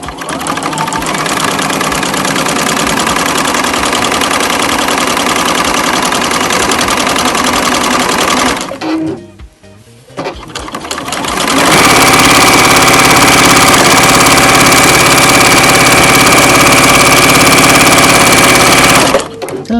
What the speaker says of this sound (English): So I let the machine pull the fabric through on its own and I just guide it.